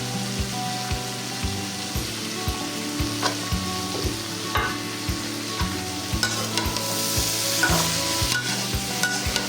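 Vegetables fry in a pan with a steady crackling sizzle while a utensil stirs them in a regular, repeated scraping rhythm, close and fairly loud, with no voices.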